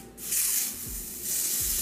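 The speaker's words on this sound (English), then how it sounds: "so I'm just gonna go ahead and spray." Two quick hissing bursts from a spray bottle onto a lace wig, close by, with a brief pause between them.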